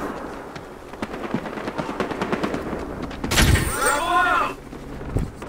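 Gunfire in the video game Battlefield Hardline: scattered shots crackle beneath the background, then a loud close burst of rapid gunfire erupts near the middle and trails into ringing echoes, with a last single thud at the end.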